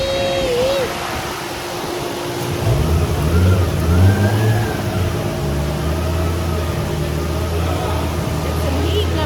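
Stock Nissan RB25DET NEO engine on a dyno, revving up and then holding a steady drone, loud and close, with a cooling fan running underneath throughout.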